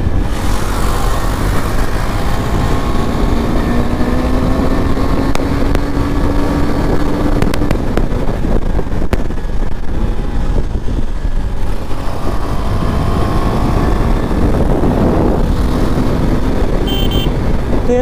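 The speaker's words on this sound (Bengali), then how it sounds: "পুরো ঠান্ডা ঠান্ডা হাওয়া দিচ্ছে।" Heavy wind buffets the microphone in a steady, loud roar while riding a KTM Duke 390 motorcycle in cold early-morning air, the engine faintly rising and falling beneath the gusts.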